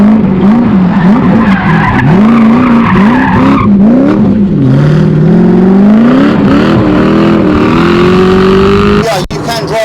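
Rare Ford Sierra fitted with a Lexus V8 accelerating hard, a loud rising engine howl that climbs, dips at gear changes and climbs again, with someone talking over it and a sharp bang near the end.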